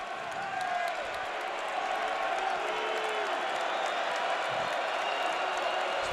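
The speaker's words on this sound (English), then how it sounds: "The crowd getting excited at the CU Event Center" At the CU Event Center, a college basketball crowd watching Arizona State play Colorado cheers and applauds as a steady, fairly loud wash of noise that builds slightly partway through and stays constant.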